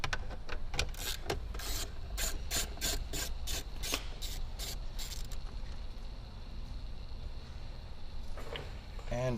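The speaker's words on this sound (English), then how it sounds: "I'm going to use the 10mm ratchet so I don't drop them." A 10mm ratchet backs out screws holding the stereo in a Toyota Hilux dash, giving a quick, close run of sharp metallic clicks for several seconds before fading to quieter handling noise.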